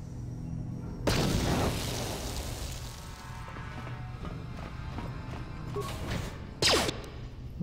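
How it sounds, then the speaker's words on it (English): Frag grenade blast in the video game Star Wars: Knights of the Old Republic: a sudden loud boom that rolls and fades over a couple of seconds, followed by further game combat effects. "Let's go for another frag grenade"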